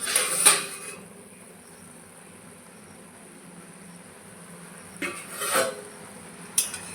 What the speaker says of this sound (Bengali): এখন আমি ঢাকনা সরিয়ে নেব।